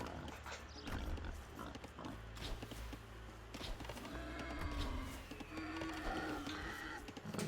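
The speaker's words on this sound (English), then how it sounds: "And brings in the second boar." Boar grunts and snorts in a real-time strategy game mingle with busy in-game sound effects, a low, rough animal noise repeating at moderate loudness amid other game noise.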